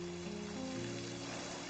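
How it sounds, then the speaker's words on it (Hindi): Heavy rain falls outside as a steady, even hiss, joined by faint sustained tonal hums that shift in pitch. "अभी बाहर बहुत बारिश हो रही है।"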